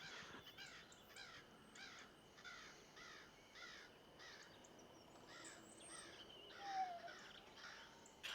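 Crows calling in a repeated series of harsh caws, about a dozen evenly spaced calls from a fair distance, faint against a low background hiss, with no talk over them.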